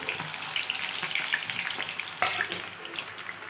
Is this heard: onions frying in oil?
yes